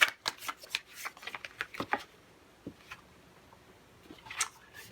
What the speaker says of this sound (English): So let me pull one more card.